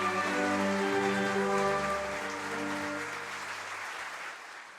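At a Korean Police Day commemoration, a large audience gives sustained applause for the president, a dense wash of clapping over a low tonal hum of music or amplification, gradually easing in volume.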